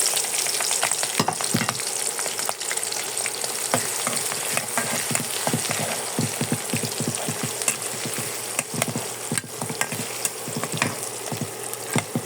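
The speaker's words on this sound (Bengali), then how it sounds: "এটা হালকা একটু ভেজে নেব" Sliced onions fry in hot oil in a wok, a dense, continuous sizzle broken by sharp scraping clicks as they are stirred, close and loud with no talk.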